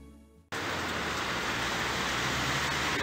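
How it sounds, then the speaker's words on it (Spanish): Heavy rain pours down during a bicycle ride with a trailer. After a brief quiet moment it bursts in suddenly as a loud, steady, dense hiss of falling rain that keeps going without a break. "llueve mucho."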